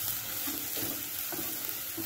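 Sweet corn chaat with green chilli sauce is stirred in a bowl, giving a soft, continuous wet mixing sound with faint rhythmic scrapes every half second or so. The sound stays close and even throughout, and no one speaks.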